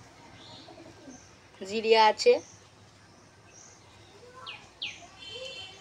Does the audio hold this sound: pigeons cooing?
yes